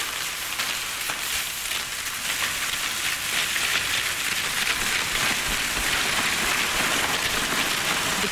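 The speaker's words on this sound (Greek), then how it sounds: "Κατέστησαν λοιπόν το χειροκρότημα με τον ήχο της βροχής" Steady, dense rain hisses continuously, an even wash of pattering drops with no pauses, fairly loud and close throughout.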